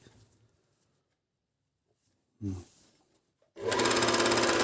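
A MEDION MD10685 overlock machine sews blue fabric with blue thread, starting with a brief whir, then after a pause breaking into a loud, steady, rapid mechanical clatter that runs on to the end.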